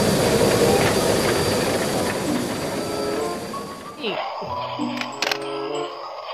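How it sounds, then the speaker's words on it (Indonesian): A train passes with a loud, broad rumble that slowly fades and drops away after a few seconds, followed by a few faint knocks and clicks close by. "ada kereta lewat"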